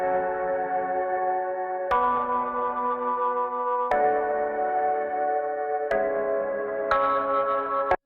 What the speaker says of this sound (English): This little reverse swell was not there originally,